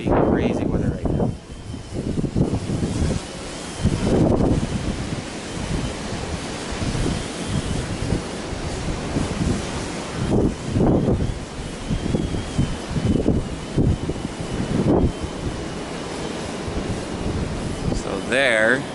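Strong wind buffets and rumbles across the microphone outdoors in stormy weather during a multicopter flight, loud and continuous with gusting surges, while someone talks intermittently over it.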